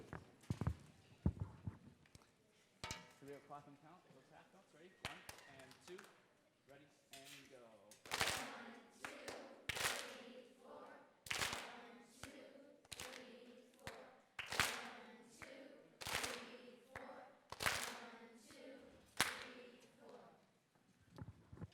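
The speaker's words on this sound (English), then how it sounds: "We start by clapping and counting our rhythms" A group of students in a school band claps a steady rhythm at a winter concert, voices counting the beats aloud alongside sharp, evenly spaced claps that grow louder partway through.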